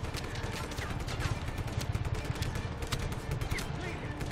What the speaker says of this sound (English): Now, of course, we do have guns that we can use.